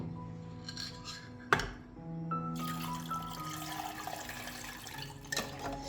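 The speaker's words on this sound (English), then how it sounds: "Pour our half liter of concentrated fertilizer into 1 liter of clean water." Concentrated fertilizer poured into a liter of clean water, a steady liquid pour and trickle filling the second half after a single sharp clink, close and fairly quiet, with no talking.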